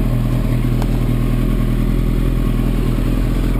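A Kawasaki ZX10R sport bike idles on ECU map 1, a loud, steady close-up engine rumble with a slight rhythmic pulse and no change in pace.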